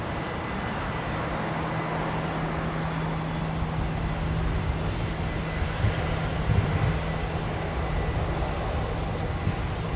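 A Boeing 737 airliner at Brisbane airport gives off a continuous, steady engine rumble with a faint low hum running underneath, holding even in level for the whole stretch.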